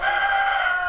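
A Jersey Giant chicken in a winter coop gives a brief, loud, sustained vocal call, close by and alone.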